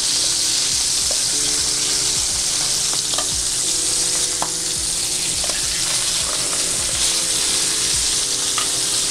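Skin-on salmon frying in a pan: a continuous, loud, close sizzle with soft crackles and pops throughout, no talking.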